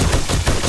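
Gunfire from an SMG in the video game 7 Days to Die: a loud, close, continuous burst of rapid automatic shots filling the whole moment.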